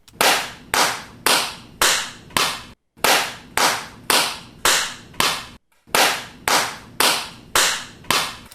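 Recorded hand claps are played back to check room reverberation: about fourteen sharp single claps in a steady rhythm, each trailing a clear reverberant tail, with two brief silent gaps between groups.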